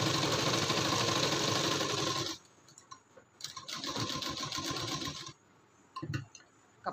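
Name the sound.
sewing machine stitching a blouse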